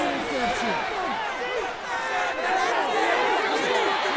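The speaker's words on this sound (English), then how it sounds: "The crowd cranking it up another notch before 3rd and long" Stadium crowd in an NFL video game, Vikings versus Jaguars, a dense roar of many voices with overlapping chatter, steady and loud throughout.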